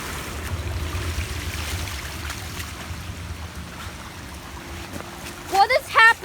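A flooding creek overflows a catch basin, giving a steady low rushing wash of water throughout, followed at the end by a brief burst of nearby talk.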